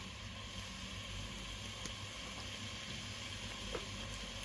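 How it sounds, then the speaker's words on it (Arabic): Carrot, spinach and other vegetables sautéing quietly in a pan for a rice dish, a soft steady sizzle and hiss running evenly throughout with no talk over it. "دابا غنخلي هاد الخضيره هكا تشحر شي شويه"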